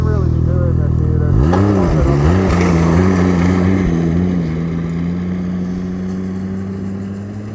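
A 300-plus horsepower turbocharged snowmobile running 32 pounds of boost revs up sharply, its engine tone sweeping up and down before settling into a steady, loud idle drone nearby.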